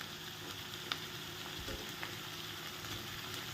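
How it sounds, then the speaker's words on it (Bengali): Diced onion, green capsicum and red bell pepper fry with tomato just added, giving a steady, close sizzle that runs unbroken with a few faint stirring clicks and no talking. "যখন তোমার দেখবে এরকম পেঁয়াজ, গ্রিন ক্যাপসিকাম আর রেড বেল পেপার এরকম আধা আধি ভাজা হয়ে এসছে"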